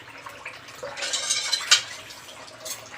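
Water trickling slowly from a household tap, a soft steady hiss and splash close by, with no talk.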